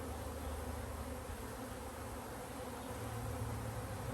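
Honeybees buzz in a steady, dense hum from an opened hive being inspected for honeybound and queenless conditions, a continuous close drone with no voices.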